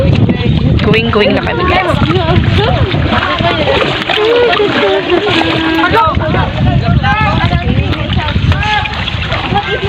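A small outrigger boat carrying passengers to an island in the Philippines splashes and churns loudly across the water, with strong wind buffeting the microphone and people talking throughout.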